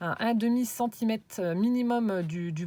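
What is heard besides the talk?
No everyday noises stand out.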